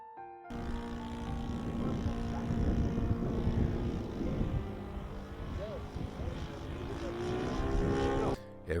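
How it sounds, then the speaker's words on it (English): Model airplane with a 38cc four-stroke gas motor swinging a 20x6 inch propeller, a steady loud buzzing drone that holds throughout, rising and falling slightly as it passes. "this one is powered by a 38cc 4-stroke gas motor. It swings a 20 by 6 inch prop"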